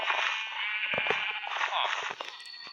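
Sheep bleating in a Thai rural village setting, a continuous wavering bleat carrying through most of the moment, fairly loud and close, with faint background noise and brief knocks beneath it.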